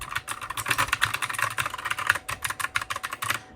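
Rapid, steady keystrokes on a mechanical keyboard, crisp clicky taps in quick succession heard up close with no voices.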